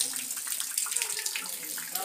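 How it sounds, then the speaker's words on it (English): Water pours and drips from cave stalactites like a shower, a close, continuous splashing patter with rapid irregular droplet hits that lasts throughout. "And water dripping. Like a shower."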